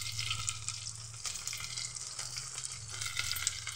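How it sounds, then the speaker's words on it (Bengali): Chopped garlic dropped into hot oil left over from frying pakoras, giving a steady soft sizzle with light stirring scrapes, fairly quiet and close with no talk. "এবার ওই তেলের মধ্যেই আমি দিয়ে দিচ্ছি রসুন কুচি"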